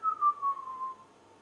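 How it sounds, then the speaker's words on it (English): A single person whistles one steady note that glides slightly downward, clear and close for about a second before fading, with light breezy background noise. "Someone whistle. Who can whistle?"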